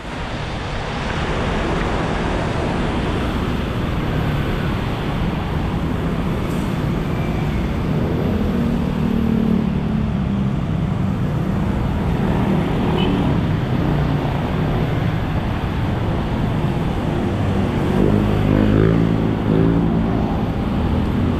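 Cars on a flooded street at SM Bacoor make a steady, loud wash of engine rumble and splashing water that runs without a break. Wind buffets the microphone throughout.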